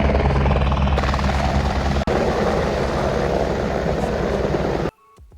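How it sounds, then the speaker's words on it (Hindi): A helicopter arriving at the Sirsi helipad on the Kedarnath route thunders with loud, close rotor chop and engine roar that holds for several seconds before cutting off abruptly. "और ये देखिए हेली आने वाला"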